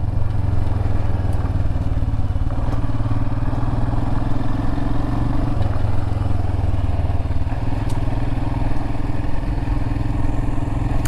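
Motorcycle ridden along a small gravel road in the North Georgia mountains, its mid-pitched engine droning steadily and close throughout with loose clatter, no talking.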